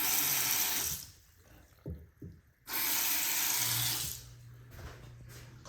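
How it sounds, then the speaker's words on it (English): A new bathroom sink faucet gushes loudly, shuts off for a moment amid small clinks and handling sounds, then runs hard again before easing to a softer flow. "we did put in a new faucet"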